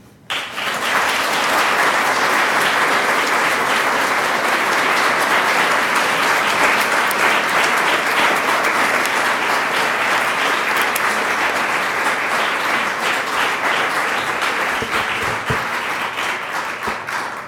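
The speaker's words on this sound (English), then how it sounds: "I'm up here not so that you could applaud longer" Sustained audience applause fills a hall at a University Club speaking event, a dense, steady wash of many hands clapping that stays loud and even for the whole stretch before easing slightly at the end.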